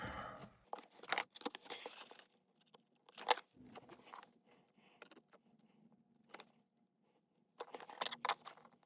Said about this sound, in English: I think I'll put a tiny piece of foam tape in behind it